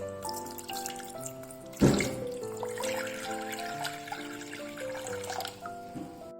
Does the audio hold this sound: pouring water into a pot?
yes